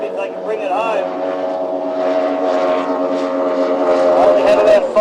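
An offshore superboat racing on Corio Bay with its engine cutting out, a loud droning engine tone that wavers and shifts in pitch, with a voice commentating over it.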